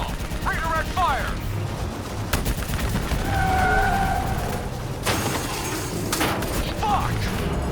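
Gunfire from Call of Duty: Black Ops III rattles in bursts amid a busy battle mix of vehicle and mechanical noise, with shouted voices talking over the action.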